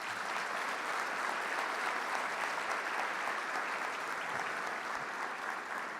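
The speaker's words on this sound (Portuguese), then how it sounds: "Uma salva de palmas para elas." Steady audience applause fills a legislative chamber in honour of children present at a special session, dense and sustained at an even level throughout, with no voices over it.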